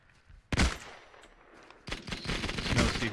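An MG42 machine gun firing in the World War II shooter Hell Let Loose: a sharp burst opens, then after a pause comes a longer stretch of rapid, rolling fire that grows louder, with no voices.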